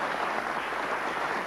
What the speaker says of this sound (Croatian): Molim vas aplauz za našeg Trnjanca.